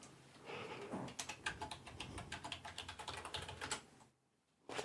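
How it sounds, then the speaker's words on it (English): Fingers typing on a computer keyboard, a quick, close run of light clicky keystrokes lasting about four seconds, then a short pause before a final key press, with no talk. "So you just type in Google My Business."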